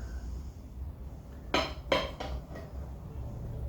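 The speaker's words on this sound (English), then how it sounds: "So let's get a knife. Cut it while it's nice and warm." A knife cuts through warm chilli cornbread in a tin, making a few sharp scraping and clinking strokes against the pan in quick succession over a quiet background.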